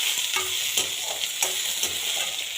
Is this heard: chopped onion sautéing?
yes